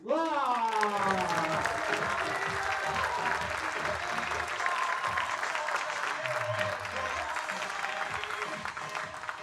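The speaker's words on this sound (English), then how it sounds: "Please, a round of applause for Kirk" Loud, sustained applause from a large audience, steady clapping filling the room with a voice briefly audible over it at the start.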